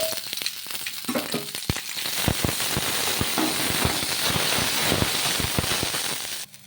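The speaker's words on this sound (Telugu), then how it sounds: "ఇప్పుడు కొద్దిగా ఆయిల్ వేసుకొని ఈ పచ్చిమిర్చిని మగ్గించుకోవాలి" Green chilies fry in hot oil in a pan, a loud close crackle and sizzle with rapid popping spatters that build and hold steady before cutting off abruptly.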